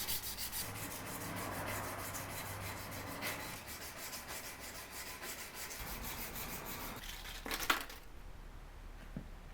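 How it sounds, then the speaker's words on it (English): A forged hunting knife blade being hand sanded: a steady, close, rapid back-and-forth scratching that runs for most of the clip, then a few sharper scrapes and a clink near the end, with no talking. "so now we're going to move on to hand sanding."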